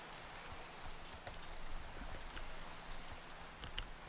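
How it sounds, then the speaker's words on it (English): Steady rain in a farming video game with horses, a soft even hiss of falling drops with faint scattered pattering, quiet and continuous with no talk. "It's raining."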